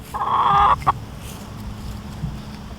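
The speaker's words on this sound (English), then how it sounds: "I'll give that to the birds. Here you go, chicken." A backyard chicken in a garden gives a short, loud, drawn-out cluck followed by a quick second call, then softer rustling and faint low sounds nearby.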